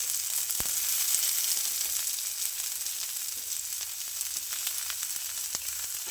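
Onions hitting hot oil in a pan for a home-style crispy fry with chillies, giving a steady loud sizzle with sharp spattering pops scattered throughout, close and continuous with no talking.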